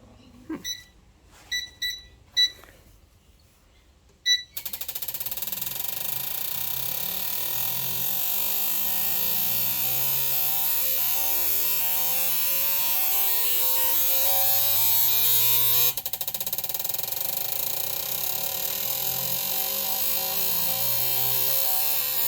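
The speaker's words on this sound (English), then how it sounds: "going to be flow checking the injectors and going over a bit of the process" RB30 fuel injectors firing on a flow-testing rig: a few sharp, separate clicks at first, then a loud, steady electric buzzing drone that runs without a break to the end.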